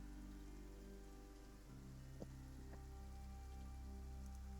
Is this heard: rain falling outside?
yes